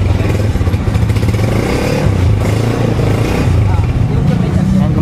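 A Honda TMX motorcycle engine revs up close in a loud, rough, continuous roar with a slight rise and fall, while someone talks over it.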